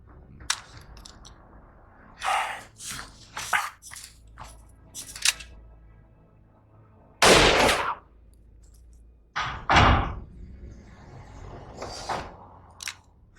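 Gunshots in a Hindi-dubbed Hollywood action film: a series of sharp bangs and clattering cracks in uneven bursts, with one loud, longer blast in the middle and quieter gaps between, no talking.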